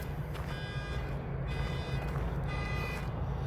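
A Chevy car horn or alarm honks in the background in a repeating pattern of short tonal bursts, faint and distant over a steady low rumble of traffic, with no talking.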